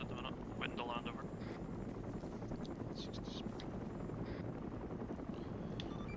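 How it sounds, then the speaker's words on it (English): Helicopter in the video game Arma 3, a steady rotor and engine drone filling the whole stretch, heard from aboard the aircraft at a low, even level. "I'm still aboard the helicopter"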